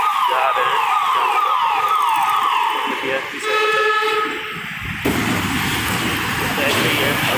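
A VIP car's siren wails through the traffic of a fair in Jodhpur. The rising and falling tones sound clearly for about five seconds, then cut off, leaving crowd and street noise behind.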